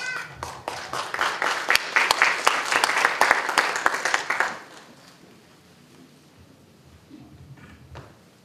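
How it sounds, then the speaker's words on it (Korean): Party members at a Daegu city chapter gathering give a burst of loud, crowded applause that lasts a few seconds, then stops abruptly and leaves a quiet room with faint stirring. "큰 박수 부탁드리겠습니다"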